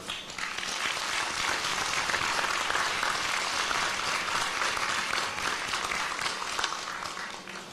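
Steady, loud applause from a large audience at a university commencement ceremony welcomes trustees to the platform, sustained for about eight seconds before beginning to fade.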